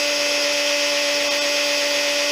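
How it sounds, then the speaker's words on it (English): Electric drill boring a hole through wood on a cross-grain lamp, running fast under light pressure with a steady, loud whine and constant buzzing tone throughout. "Now the whole thing on this is very, very light drilling"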